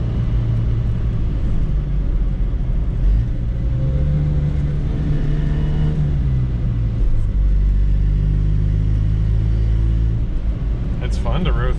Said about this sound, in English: You do kind of have to rev it out to get to the power